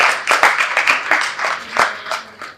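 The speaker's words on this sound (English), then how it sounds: "Let's give a round of applause to our great speakers today." Audience clapping for the speakers at a sexual and reproductive health rights event, loud and close, with individual hand claps standing out in uneven bursts that swell and fade over a couple of seconds.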